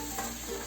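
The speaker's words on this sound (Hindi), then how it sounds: "अब 4 मिनट के लिए हाई फ्लेम पर हम इन दोनों को" Diced potato and pointed gourd stir-fried on high flame, giving a brief, steady sizzle with faint stirring, close and continuous with no voices.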